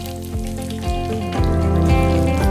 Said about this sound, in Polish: Pomidory na patelnię.